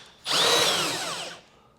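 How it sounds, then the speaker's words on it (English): A power drill with a unibit spins up and bores through material during a car speaker install, in one loud, close burst of just over a second that whines and then drops away. "So the next step here is going to be drilled in."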